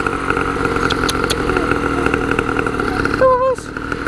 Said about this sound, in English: They don't like the sound of the engine.